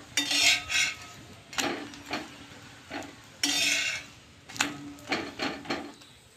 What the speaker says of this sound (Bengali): তাই আমি সর্ষের তেলে ভাজছি